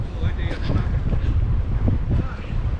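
Steady buffeting wind on a cold day at Harrington on the Australian coast roars across the microphone, low and continuous, with gusty surges throughout and faint voices partly buried beneath it.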